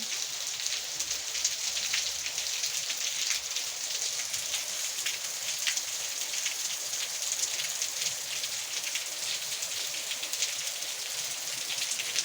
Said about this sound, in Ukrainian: Десь падає сніг, а в нас падає дощ.